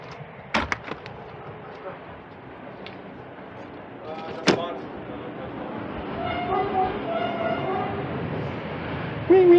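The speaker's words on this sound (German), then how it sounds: "Es fährt gerade Eisenbahn vorbei, habt ihr ja gehört." A railway train passing close to a small tiny house in a rural garden setting, a steady rolling rumble building through the clip with a couple of sharp clanks early on, while a person talks over it.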